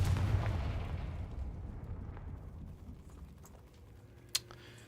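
A Confringo fire spell in the Hogwarts Legacy video game bursts with a heavy explosive boom that rumbles and fades over a few seconds, with a sharp click near the end.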